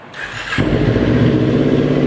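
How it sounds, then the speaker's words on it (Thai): A 2018 Kawasaki Ninja 400 fitted with an aftermarket exhaust fires up and settles into a loud, steady idle, the engine note rumbling close and even after the brief start. "มาฟังเสียงท่อคันนี้กัน"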